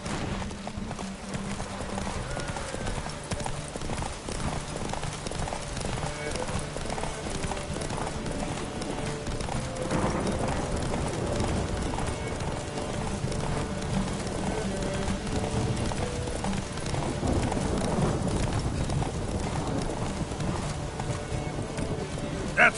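Horses gallop in a steady drumming clip-clop of hooves throughout a race in the video game The Witcher 3, with a faint rain-like patter and occasional louder stretches as the riders push on.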